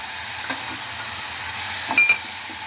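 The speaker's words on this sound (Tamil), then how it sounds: "வெங்காயம், இஞ்சி பூண்டு, இதை வந்து நம்ம போட்டுடுறோம்." Onion and ginger-garlic paste frying in hot oil for a spicy curry, a steady close sizzle with a few sharp spoon-stirring clatters.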